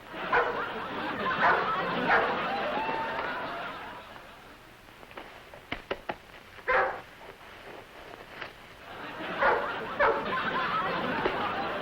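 A dog barks and yips in a 1953 cartoon-style comedy, in short sharp bursts with whimpering sounds, mixed with chuckling and people talking.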